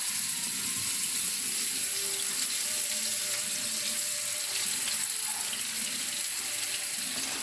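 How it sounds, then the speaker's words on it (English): Steady, bright sizzling of meatballs frying in hot oil in a small pan, a continuous crackle that stays even throughout with no voices. "Gently put the meatballs in."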